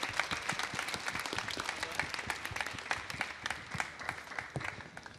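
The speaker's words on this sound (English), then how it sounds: "A final round of Ambassador applause for Zaideh" An audience gives a final round of applause for panelists at a U.S. Center event, dense steady clapping from a crowd running throughout, fairly close and sustained.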